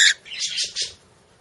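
A pet bird lets out several loud, harsh squawks in quick succession, close by, with no talking.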